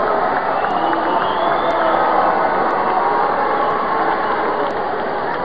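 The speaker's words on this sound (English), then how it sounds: "The crowd did not like this performance one bit, so they boo." A large crowd at the 1996 MTV Video Music Awards roars in a dense, continuous wash of voices, loud and sustained, the booing blended into a wide crowd din.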